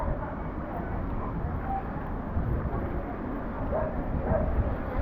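Dogs bark excitedly outdoors on Southgate Street in Gloucester, near the docks. The barking is fairly faint and blends into a steady wash of wind and street noise that lasts the whole time.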